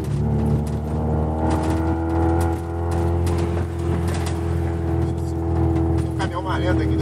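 A Ford Escort with a Zetec engine on MegaSpeed injection held at a steady 3000 RPM while driving uphill, a continuous even drone with a low rumbling hum throughout and slight swells in intensity.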